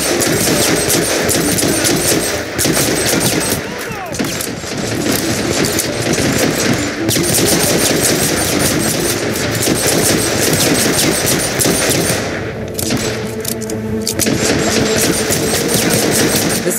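Sustained enemy gunfire in Hitman: Absolution, loud rapid automatic bursts and shots rattling almost continuously, with a brief lull near the end.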